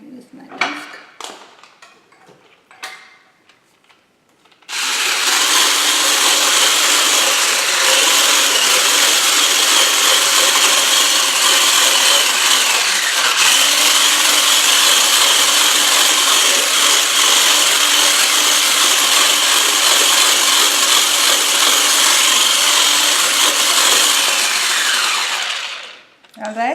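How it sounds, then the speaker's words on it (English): A whisk mixes gluten-free, nut-free banana oat cookie dough, giving a loud, steady whirring that runs for about twenty seconds after some quiet rustling at the start. "Just gonna mix it in. I'm gonna use my whisk."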